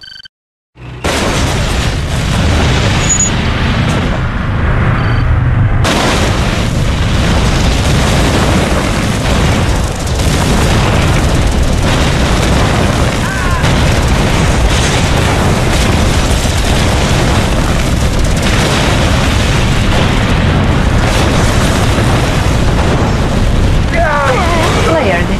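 V3 rocket launcher missiles exploding in Red Alert 2, a long, dense barrage of loud booms and bursts over continuous rumbling battle noise, hitting hard from the first second and never letting up.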